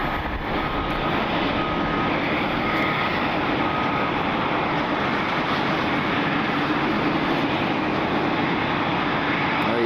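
A CRJ jet's engines roar steadily at an airport in the rain, a loud, continuous broadband rush that fills the whole stretch without letup.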